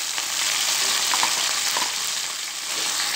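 Chopped onion, green chilli and curry leaves fry in hot oil with mustard seeds and cumin, a loud continuous bright sizzle with crackling pops throughout.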